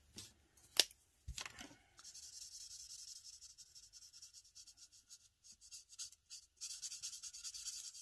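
A marker is dragged across paper in quiet, rapid back-and-forth strokes, a faint scratchy squeak that repeats in a steady rhythm after a couple of sharper taps at the start.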